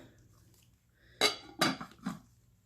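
A lid set onto a crock pot while hot process soap is made, giving two or three clear clinks and clatters of lid against pot, close and fairly loud in an otherwise quiet kitchen.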